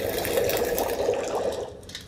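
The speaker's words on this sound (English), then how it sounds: "boil the water" Water heating to a boil over a fire in The Long Dark, a steady, continuous bubbling hiss that holds level throughout without breaks.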